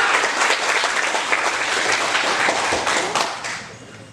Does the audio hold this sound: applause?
yes